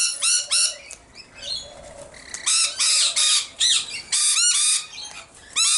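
Lorikeets and cockatoos at a seed feeding in Nerang squawk loudly and repeatedly at close range, with harsh bursts broken by short pauses and some wing flapping.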